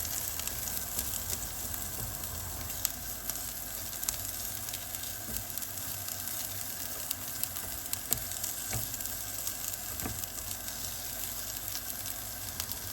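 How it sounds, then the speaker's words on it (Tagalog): Chilies frying in oil in a pan over a medium-low flame, giving a faint, steady sizzle with small scattered pops throughout. "we're going to cook our chilies. Cook it in a medium slow fire."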